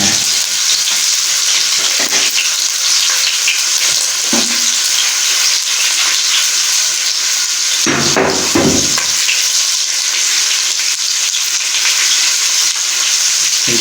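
Garlic ginger paste and ground whole spices for aloo gosht fry in a pan with a loud, continuous sizzle, broken by a few scraping stirs; no talking.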